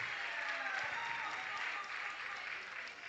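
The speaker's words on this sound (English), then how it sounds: "Give her a big round of applause." Sustained crowd applause at a powerlifting championship medal ceremony in the Cayman Islands, a thick, even roar of many hands clapping, fairly distant and steady throughout without a break.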